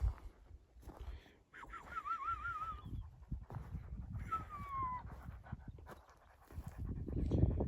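Dogs panting quickly and audibly close by in hot weather in the Nurhak mountains, with a couple of high whining whimpers and occasional rustling, no talking.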